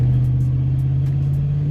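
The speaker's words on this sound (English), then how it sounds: "I still hear that raspiness of the exhaust still" A car driving with its interior stripped and sound deadening added, giving a steady, close exhaust drone with a low raspy rumble that holds even throughout, with no talking.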